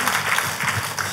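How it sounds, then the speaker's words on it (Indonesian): Church congregation applauding together, a dense, steady wash of clapping lasting about a second with no voices over it. "Tepuk tangannya yang meriah buat Tuhan kita."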